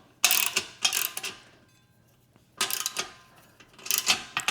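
Parts of a leg extension curl machine tightened with a hand tool, in short bursts of rapid ratcheting clicks separated by quiet gaps, close and alone.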